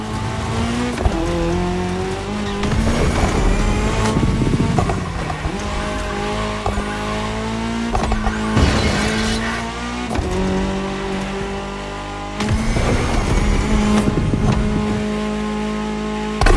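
Rally cars race in The Crew Motorfest, among them an Audi S1 EKS RX Quattro and a Ford Puma Hybrid Rally 1, with loud engines revving and shifting repeatedly, tires squealing and skidding throughout.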